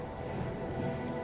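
Steady rain falling on surfaces in a Marvel Rivals game trailer, a soft, even hiss with dense pattering, faint and continuous with no talk.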